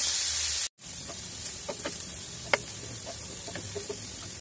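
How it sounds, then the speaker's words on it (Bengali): Sliced onions fry in oil toward crisp birista for carrot pulao, a soft, steady hiss with scattered small ticks and pops and occasional light stirring clicks after a short cut. "এখন এই পেঁয়াজটাকে বেরেস্তা করে নেব বন্ধুরা"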